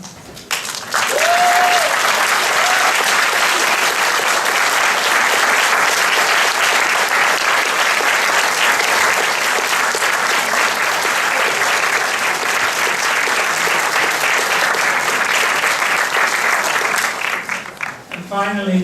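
A large crowd applauds loudly and without a break at a fall mathematics graduation ceremony. The clapping is dense and sustained, with a brief voice near the start, and it eases off just before the end.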